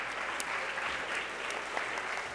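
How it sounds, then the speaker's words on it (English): A conference plenary audience applauding, steady crowd clapping heard at a modest distance, even and sustained with no voices over it. "Give him a round of applause."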